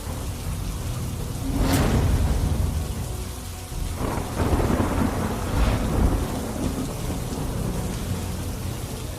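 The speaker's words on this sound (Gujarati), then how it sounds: "શહેરના અલગ અલગ વિસ્તારોમાં વરસાદી ઝાપટા પડી રહ્યા છે।" Rain showers falling over Surat, a constant wash of rain on surfaces with rolls of thunder rumbling through, loud and steady with no voices.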